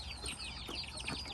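Chickens clucking at a chicken farm, several short chirpy calls overlapping in a steady busy texture, moderately close with no talk.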